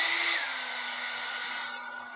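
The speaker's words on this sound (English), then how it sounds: "I'm just going to give these guys a quick hit with the hairdryer just to make sure that everything on it is dry" A hairdryer blows steadily on freshly painted acrylic miniatures, a close, continuous whooshing whine with a slight pitch drop near the start, running alone without talk.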